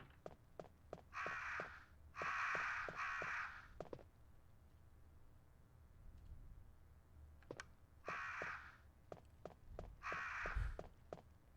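Repeated crow caws in Resident Evil (1996), coming in paired bursts that repeat, with steady footsteps ticking between them and a quiet ambient background, no talking.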